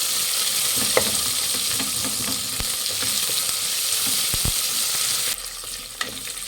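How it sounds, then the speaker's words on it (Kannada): Onions frying in a pan for akki usli, a steady close sizzle with occasional stirring clicks and scrapes, no voices. "ಫ್ರೆಂಡ್ಸ್, ಈರುಳ್ಳಿ ಗೋಲ್ಡನ್ ಬ್ರೌನ್ ಬರೋವರೆಗೂ ಫ್ರೈ ಮಾಡಿ."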